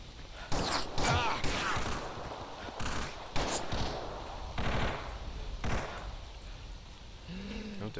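Bursts of automatic gunfire in STALKER Anomaly, several sharp volleys spread through the clip against a steady background, with a brief low hum near the end.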